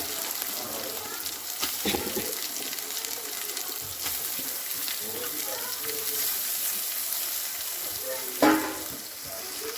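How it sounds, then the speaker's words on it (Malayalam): Four finely sliced onions sizzle and fry steadily in a pan, with occasional stirring scrapes and a brief louder clatter near the end, close and continuous. "നാല് സവാള ഇട്ട് കൊടുത്തിട്ടുണ്ട്."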